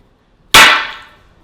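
A single sharp hammer strike on a wooden bird stand for a cockatiel: a loud, bright crack that starts abruptly and rings down over about half a second, with no voices.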